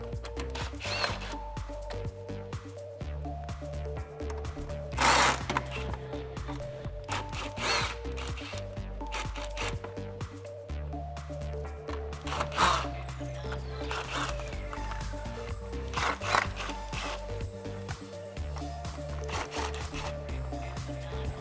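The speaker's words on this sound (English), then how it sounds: "grab your 7 socket and impact gun or ratchet and get those off" An impact gun or ratchet drives 7mm bolts out of a chin spoiler across the front of a 2018-2021 car, giving several short, loud mechanical bursts over a steady background hum.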